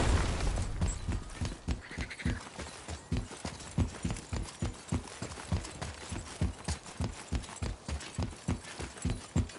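A horse's hooves clip-clop in a steady, even rhythm, each strike sharp and close, continuing without pause for the whole stretch with no voices over them.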